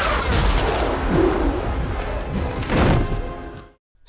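Harry Potter film spell effects: loud whooshes with crackling, firecracker-like pops and electric sizzle, bursting in dense succession with a heavy thump near the end before a sudden cutoff.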